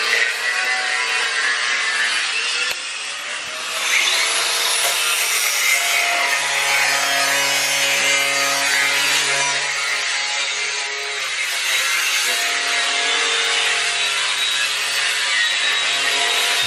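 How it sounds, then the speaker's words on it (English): A metal bracket for a sunroof is cut on a car body in a workshop, producing a sustained, loud grinding rasp with shifting ringing tones that runs nearly unbroken throughout. "Cutting a bracket."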